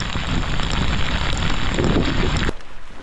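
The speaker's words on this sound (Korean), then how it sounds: "비가 좀 많이 쏟아지네요" Heavy rain pours steadily during a trek on the Camino de Santiago in Spain, a dense close hiss with wind buffeting the microphone, cutting off abruptly near the end.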